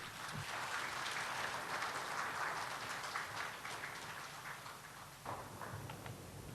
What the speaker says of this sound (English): Huge round of applause for him,